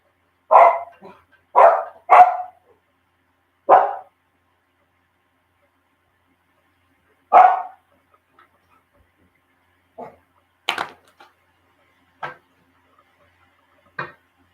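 A dog barks in short, sharp bursts, a quick cluster of loud barks, then a pause, then quieter scattered barks trailing off. No one talks.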